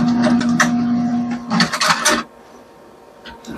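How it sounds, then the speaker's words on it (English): An HP 2000c inkjet printer powered on, its built-in fan whirring loudly with a steady tonal hum, interrupted by bursts of mechanical clattering and rattling, then settling to a quieter hum near the end. "I think this thing has a fan built right into it. It's pretty loud."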